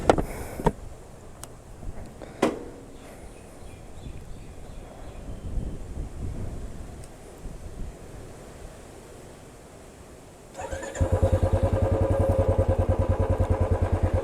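A Royal Enfield Stealth Black 350 motorcycle engine comes to life after a stretch of wind noise and settles into a loud, steady, evenly pulsing thump close to the microphone.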